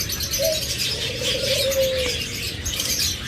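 A pair of pet green opaline budgerigars chirps and warbles steadily at close range over a hissy background, with one clear rising call partway through.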